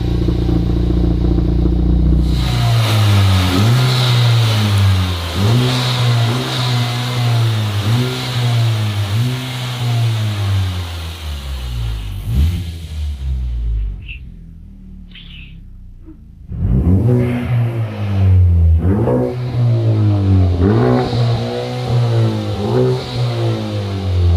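A loud turbocharged Honda Civic Type R FK2 engine revs repeatedly in rising and falling surges, drops briefly to a quieter lull with a dump valve hiss, then resumes hard revving.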